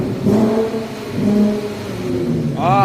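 A 3.6L V6 car revs during a failed burnout, its engine note rising and falling close by, followed by a sharper rev near the end; voices speak over it.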